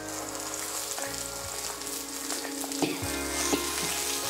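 A ground mint-coriander chutney mixture goes into a hot pan and is stirred, giving a soft, quiet sizzle with occasional light scraping knocks.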